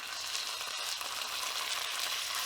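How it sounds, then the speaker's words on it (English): Marinated bulgogi beef strips sizzle in a hot pan with a steady, crackling hiss, close and continuous, with no voices. "And enjoy the sizzle."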